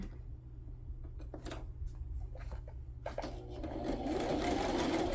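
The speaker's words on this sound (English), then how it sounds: "let's sew around this, and I am gonna, you know, when I sew here, it's gonna leave that as an optional pocket" A sewing machine runs steadily as it stitches around the edge of a journal page, a close, continuous mechanical whir that grows louder and busier toward the end.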